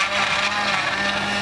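An electric blender whirs steadily while mixing a weight-loss smoothie with added water, as one continuous close motor drone.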